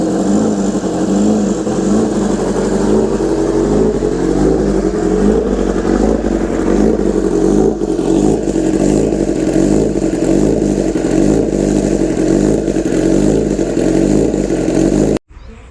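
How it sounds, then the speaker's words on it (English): A motorcycle engine idles and warms up with a steady low rumble and mechanical clatter, revving slightly at times, close and continuous with no talk, cutting off at the end. "so that I can let the bike warm up"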